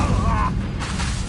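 A fire spell in Hogwarts Legacy erupts in a short, loud whooshing burst with a deep boom underneath, over a wavering tone that fades after half a second, followed by a lingering rumble.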